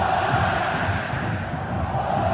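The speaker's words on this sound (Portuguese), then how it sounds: "A torcida do Inter grita olé" Internacional supporters fill the Beira-Rio stadium with a sustained crowd chant of olé during a Brasileiro match, a broad, steady roar heard from a distance with no clear single voice.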